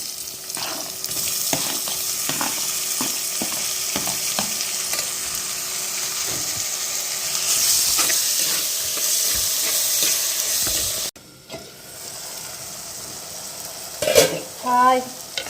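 Onions and tomato sautéing in a pan for sardine curry: a steady, close sizzle with repeated scraping and tapping of a spoon. Partway through it cuts to a quieter stretch with a short clatter near the end.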